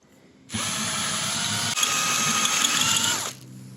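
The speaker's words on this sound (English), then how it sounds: "we are going to drill out this rivet" A power drill whirs loudly for about three seconds, close up, drilling out a metal rivet on a Volkswagen Vanagon sliding door, its pitch steady then dipping slightly as it bites through.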